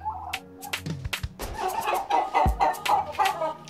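Chickens cluck in short, repeated bursts on a farm with goats, close by and fairly loud, with a rooster-like call mixed in.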